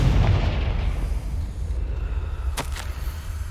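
A Confringo spell blast in Hogwarts Legacy bursts loudly at the start, its deep rumbling boom fading into a low roar. A sharp crackle snaps briefly near the end.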